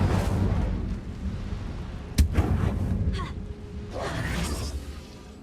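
Incendio fire spell cast in Hogwarts Legacy, a sharp crack followed by whooshing bursts and rumbling blasts, loud and close over a dense game soundscape.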